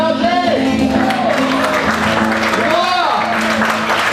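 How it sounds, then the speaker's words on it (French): Audience applause for Annick Bélanger at a chamber of commerce president's cocktail reception, a steady wash of clapping with some whoops, sustained throughout under loud music and voices. "Je veux une bonne main d'applaudissement."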